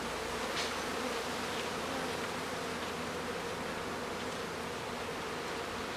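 Honey bees swarm around a hive during a transfer, their dense buzzing steady and close throughout, a continuous hum with no talk over it.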